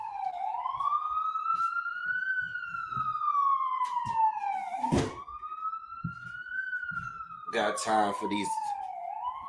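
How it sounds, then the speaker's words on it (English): Ambulance sirens heard from indoors at night, a loud, rising and falling wail sweeping past in long cycles with brief horn-like blasts, while someone talks over them. "loud ass ambulances coming through all night"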